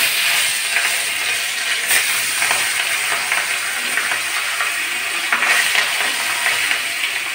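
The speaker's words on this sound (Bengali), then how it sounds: "এখন আমি মাছগুলো ভেজে নেব ভালো করে।" Fish pieces frying in hot white cooking oil, a steady close crackling sizzle throughout with faint clicking, no voices over it.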